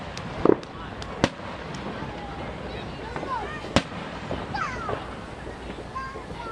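Fourth of July fireworks at a ballpark, sharp distant cracks and pops scattered over several seconds, with a few louder bangs standing out above crowd murmur and people talking nearby.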